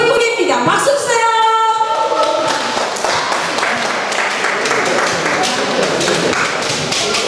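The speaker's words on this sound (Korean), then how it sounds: "박수 주세요." A crowd breaks into loud, dense applause that starts right away and continues steadily throughout, with a brief musical tone at the start.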